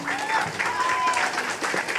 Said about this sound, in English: I think we can still applaud.